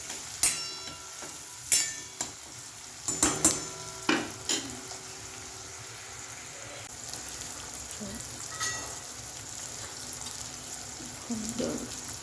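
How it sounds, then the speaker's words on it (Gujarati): Green chickpeas sautéing in a pan, a steady low sizzle broken by a few sharp clinks and scrapes of stirring, heaviest early on, then a calmer simmering hiss. "અને આપણે થોડી વાર સાંતળવા દઈશું"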